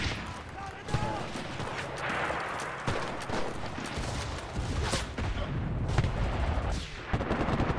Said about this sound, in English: He was shooting for a while actually.